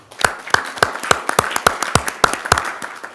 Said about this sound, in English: I have a round of applause for the winners.